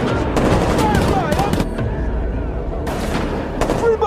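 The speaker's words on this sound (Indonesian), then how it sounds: "ternyata tempat tersebut terkena granat pertempuran antara Firefly dan juga pihak militer" Battle between Firefly fighters and the military in The Last of Us, with gunfire bursts and grenade blasts rumbling under dramatic score and a narrating voice throughout.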